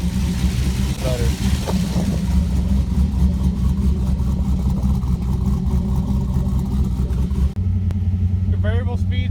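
A Ford Crown Victoria V8 idling as it warms up on a fast idle, a loud steady low rumble throughout, with a voice talking over it and a drop in engine note near the end.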